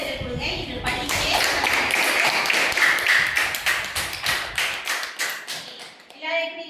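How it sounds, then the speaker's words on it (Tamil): Schoolchildren applaud together in a Tamil-language classroom, a steady burst of many hands clapping in fast rhythm that thins toward the end, with a brief voice after it fades. "உங்களுக்கு ஒரு பெரிய கைத்தட்டல் கொடுங்க."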